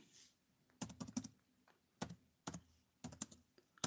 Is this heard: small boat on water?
no